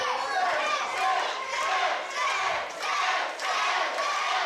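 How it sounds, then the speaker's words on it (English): Crowd at a live wrestling event cheering and roaring steadily, with surges of noise rising and falling across the whole stretch, loud and dense. "The crowd willing him back to his feet"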